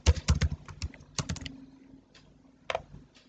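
Keys clack on a computer keyboard in short quick bursts, a few rapid taps, a pause, then a last small cluster, close and otherwise quiet.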